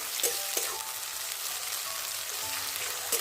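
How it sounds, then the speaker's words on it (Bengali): Onion, tomato and ginger-garlic paste frying in a pan, a continuous crackling sizzle with a few soft stirring knocks, close and moderately loud, with no voices. "এবার খুব ভালো করে আগে কষে নেবো"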